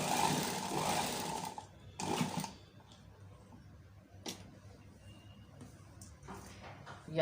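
A sewing machine stitching a sleeve with a center cut, giving two short loud bursts of whirring stitching near the start, then quieter ticks and light handling sounds.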